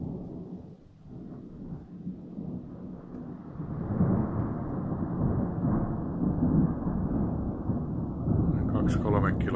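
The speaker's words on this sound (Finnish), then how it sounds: "Sinne löi tuo salama." Thunder from a lightning strike about two to three kilometres away rolls in as a long low rumble that swells and holds, with a faint voice near the end.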